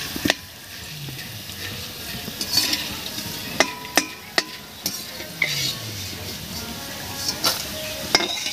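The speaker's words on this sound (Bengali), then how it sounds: "ঝুড়িগুলো ভেজে নেব। দেখুন কি সুন্দর করে ভাজা হয়ে যাচ্ছে" Shredded potato (jhuri) fries in oil over lowered heat, a soft continuous sizzle broken by repeated clinks and scrapes of a utensil stirring in the pan.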